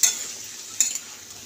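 Potatoes sizzle in oil with whole cumin in a pan while a spoon stirs them, two sharp scraping strokes standing out over a steady, close frying hiss, no voices.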